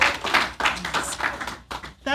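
Scattered applause from an audience at a Freedom Month kick-off gathering, a short burst of uneven hand claps mixed with talking that briefly dips before picking back up.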